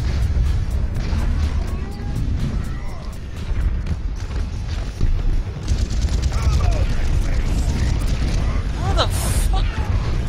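In Overwatch on the Eichenwalde map, Hanzo's dragon ultimate roars with a dense rumbling whoosh amid constant booming gunfire and explosions, while a player talks over the chaotic match.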